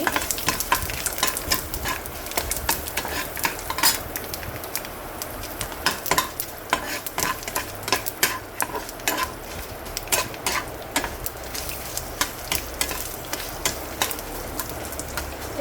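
Ginger and red chillies frying in a hot pan just after the stove is switched off, a steady crackling sizzle broken by frequent sharp pops and spatula scrapes, close and continuous with no talk.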